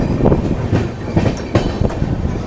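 A train departing platform one at Ludhiana station rolls past close by, its wheels clattering in a steady rhythmic clickety-clack over the rails.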